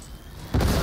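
A krak grenade going off in a Warhammer video game: a single heavy, close explosion bursts in suddenly after a quieter stretch and roars on to the end.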